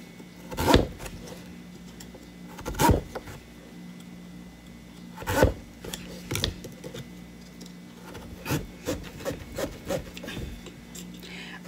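A knife working through the tough stem and top of a pumpkin, heard as scattered rough rasping strokes and dull knocks, several isolated then a quicker cluster toward the end over a low steady hum.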